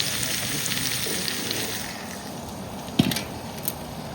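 Diced raw papaya sautéing in oil in a kadhai gives a steady hiss and sizzle, with a sharp scrape of the spatula stirring against the pan partway through.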